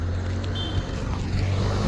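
Private auto rickshaws run along a road in Vengurla, heard as a steady low engine drone with a rushing traffic hiss, fairly close and continuous, with no talking.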